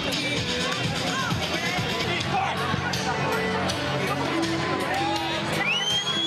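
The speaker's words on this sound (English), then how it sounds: "The crowd is cheering them on" A lively outdoor crowd in Philadelphia shouts, whoops and cheers for climbers scaling a 30-foot greased pole, with a constant babble of voices and occasional high cries rising above the noise.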